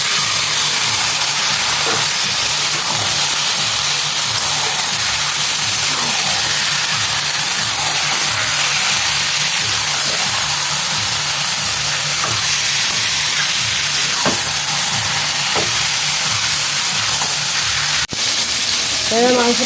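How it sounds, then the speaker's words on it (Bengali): Marinated mutton fries with onion and capsicum in a loud, continuous sizzle and steamy hiss, broken by occasional stirring knocks and a single sharp clack near the end. "ম্যারিনেট করা মাংস এবার আমি এই পেঁয়াজ আর ক্যাপসিকামের মধ্যে দিয়ে ভালো করে ভাজবো।"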